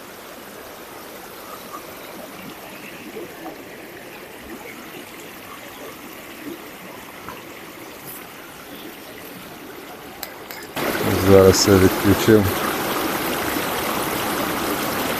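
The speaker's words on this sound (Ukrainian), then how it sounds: "Дуже люблю цей шум води" Steady rushing of a waterfall flowing over large stone boulders, soft at first and then suddenly louder and fuller, with someone speaking briefly over it.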